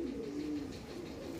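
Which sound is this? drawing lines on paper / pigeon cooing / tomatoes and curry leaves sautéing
pigeon cooing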